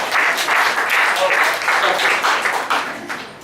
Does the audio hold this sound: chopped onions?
no